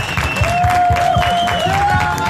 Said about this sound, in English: Big round of applause for a wonderful.